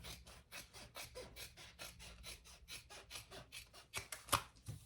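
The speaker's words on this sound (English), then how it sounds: "Now let's trim that seam allowance to about half." Scissors snip repeatedly through a fabric seam allowance on a crossbody bag, a quiet, close run of rhythmic rasping cuts at a steady pace.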